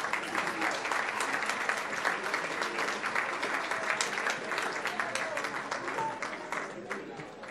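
A sustained round of applause from an audience honoring students at a Palm Beach County school event, dense and steady throughout with crowd murmur underneath.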